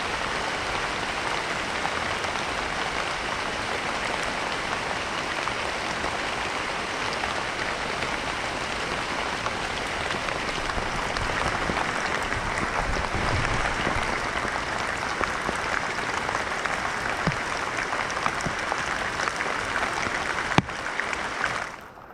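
Heavy rain during a rice harvest in the field, a dense, steady roar of downpour drumming on surfaces, loud and continuous with no break, no voices.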